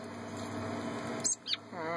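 Brief high chirps from a red-bellied woodpecker chick at a bird rescue come in two quick calls near the end, over a steady hum of room noise.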